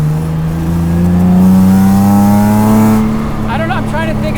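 A V6-swapped Exocet roadster engine revs loudly and close by. Its droning tone rises and falls, then a quick burst of higher revs ends it, with a voice audible over the engine.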